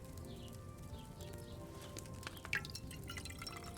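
Liquid trickles into a glass vial during potion brewing in Kingdom Come Deliverance 2, soft dripping and pouring over a steady low background hum, with one brighter splash near the end.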